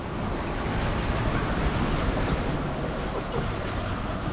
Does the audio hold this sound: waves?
yes